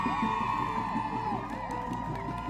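A crowd cheers and whoops in celebration after a sword-raising victory cry, a steady, dense wash of many voices filling the scene without pause.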